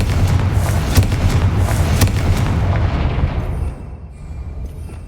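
A Confringo fire curse erupts in Hogwarts Legacy with a heavy, booming blast that rumbles for a few seconds, then trails off into a fading crackle.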